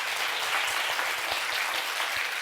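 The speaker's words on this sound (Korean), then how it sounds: "우리 다른 학생들도 응원의 박수 한번." A group of students clapping together in encouragement, a dense steady burst of applause throughout with no speech over it.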